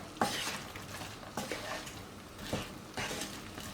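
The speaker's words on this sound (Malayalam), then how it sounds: "നമ്മൾ ഫ്രൈ ചെയ്ത് വെച്ചിരിക്കുന്ന ചിക്കൻ ഇട്ട് കൊടുക്കാം. വീണ്ടും എല്ലാം ചേർത്ത് മിക്സ് ചെയ്യുക." Fried Chicken 65 pieces being stirred into a thick sauce in a pan over a low flame, with a spoon scraping in four separate strokes against a faint, steady sizzle.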